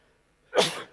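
A single sneeze bursts out abruptly after near silence, fairly close and short, with no talking around it.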